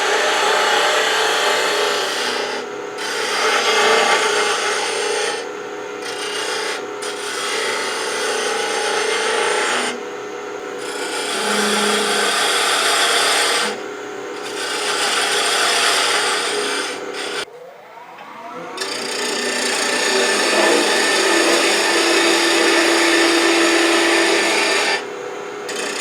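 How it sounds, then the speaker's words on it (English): A spindle gouge cuts wood on a lathe while turning a shop stool part, a steady rasping, scraping drone that runs nearly continuously with a few brief dips and pauses, close and fairly loud. "We're going to use the spindle gouge"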